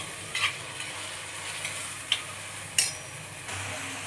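Tomatoes frying with ginger garlic paste for a potato, tomato and egg curry, a close, steady hissing sizzle punctuated by several sharp metal clicks of a spoon tapping and stirring in the pan.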